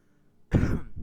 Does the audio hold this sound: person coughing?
yes